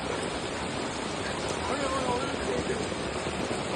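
Steady broadband rush of flowing water, continuous and fairly distant, floodwater running fast along a street after heavy rain in Sathankulam, with no clear voices over it.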